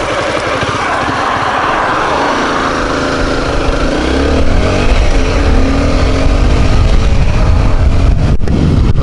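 A Honda CBR250R motorcycle accelerates hard, its engine note loud and close, rising in pitch through a run up to speed over steady wind and road roar.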